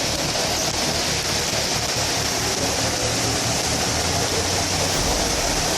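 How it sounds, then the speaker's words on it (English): Floodwater rushes through downtown Hudson during a storm, a loud, unbroken roar of churning water that stays constant throughout, with no voices. "Downtown Hudson's flooding"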